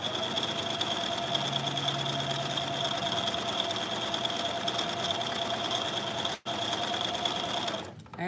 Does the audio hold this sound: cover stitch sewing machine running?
yes